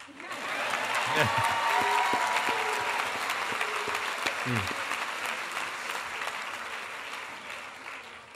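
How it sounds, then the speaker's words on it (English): Audience at the 2015 Hampshire College commencement breaking into applause, a broad wash of clapping with some cheers that swells quickly, holds steady, then tapers off near the end, with a voice briefly heard over it. "So can we put a round of applause together for the sun?"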